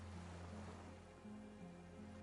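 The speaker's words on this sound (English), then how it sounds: "The skiff is swaying on the waves by the dock." Water laps softly against a dock where a small skiff sways in Disco Elysium, a faint steady wash of surf with low, droning tones sustained beneath it.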